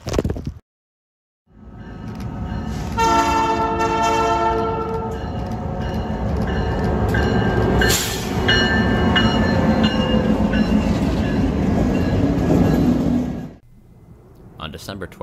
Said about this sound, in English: CPF 470 is where NS Intermodal trains enter and exit